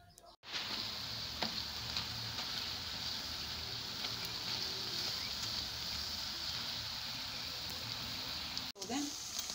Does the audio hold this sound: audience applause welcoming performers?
no